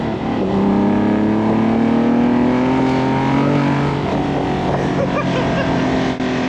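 TVR Tuscan sports car engine pulling hard under full throttle, a loud, steady rising drone held for several seconds without a break, heard from inside the cabin.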